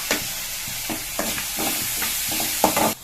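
Vegetables and spices such as turmeric, chilli powder and garam masala being stirred and sautéed in a pan, giving a steady sizzle broken by repeated spatula scrapes, close up and without speech.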